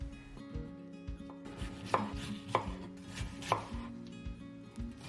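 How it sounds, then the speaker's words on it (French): A knife chops cabbage into large pieces on a cutting board, with a series of firm, evenly spaced chops close by, no talking. "Je coupe mon chou en gros."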